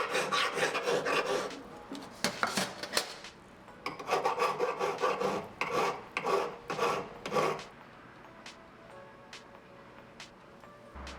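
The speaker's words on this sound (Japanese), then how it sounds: "ヤスリで形を整えていきます" A hand file rasps across a forged silver spoon in bursts of close, scratchy strokes, some quick and some longer, that thin out into a few light taps toward the end.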